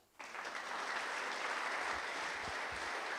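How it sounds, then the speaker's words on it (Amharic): Church congregation clapping in unison: a sudden burst of applause that rises in an instant and holds dense and steady to the end, with a few low thumps near the close. "አጨብጭቡ እስኪ በጌታ"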